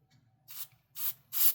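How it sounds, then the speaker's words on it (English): Cleaner sprayed onto the tiny pots of a 1966 USA Holiday H15 Bobkat guitar: three short, close hissing bursts in quick succession, the last the loudest, over a faint low hum. "Go ahead and hit those with some spray, some cleaner."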